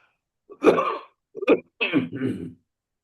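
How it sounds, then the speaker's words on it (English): A few throaty coughs close up, three short bursts in quick succession with brief pauses between them, and no other sound around. "I was just coughing"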